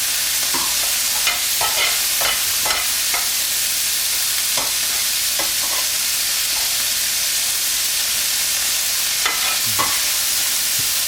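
Wagyu beef brisket deckle cooking, a loud continuous sizzle and hiss with scattered sharp pops and spits, close up, no talking.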